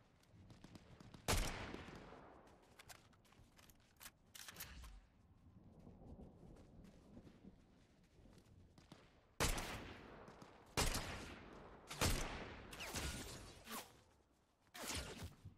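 Players firing guns in a video game, with scattered loud shots and short bursts, some near and booming, others more distant, between quieter stretches of game ambience.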